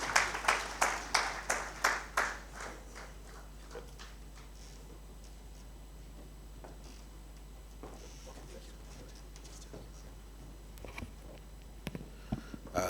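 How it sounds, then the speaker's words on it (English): Applause at a winter school conference session in Victoria Falls: a quick run of loud, evenly spaced claps that fades within a few seconds into a quiet room with a steady hum and a few stray sounds. "May we give a round of applause to Mr."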